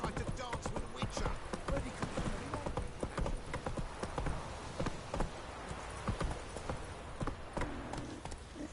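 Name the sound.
horse hooves galloping in The Witcher video game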